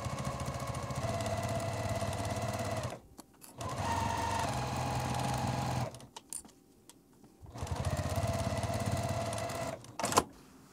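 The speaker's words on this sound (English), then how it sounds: "now we're going to take this over to the sewing machine and I'm just going to sew" A sewing machine stitches a fabric pencil pouch in three sustained runs, each a fast, even mechanical chatter separated by short pauses with faint handling noises, heard close with no talking.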